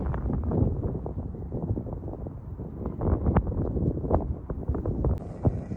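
Gusty wind on the Norfolk coast path, buffeting the microphone in a continuous low, rumbling roar with uneven surges, close and fairly loud with no voices.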